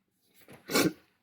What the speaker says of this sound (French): Quand j'éternue, j'arrête jamais.